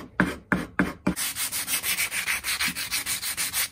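Sandpaper rubs by hand against a wooden axe handle, a few separate strokes at first, then a steady rhythmic back-and-forth scraping, close and loud with no voices.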